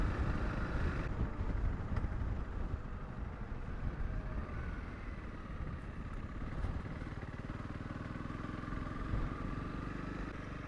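A Honda CRF 300 Rally motorcycle rides through a small town, its engine note a steady, close, continuous drone with a rumbling low end and wind noise throughout.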